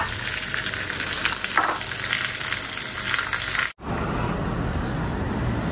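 Meat frying in a hot pan gives off a steady, loud sizzle that hardly changes throughout, with a brief cut partway through.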